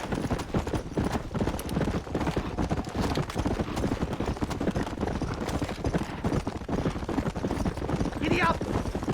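Horse hooves clip-clop at a steady gallop throughout a Red Dead Redemption game scene, loud and continuous, with a voice speaking over the hoofbeats.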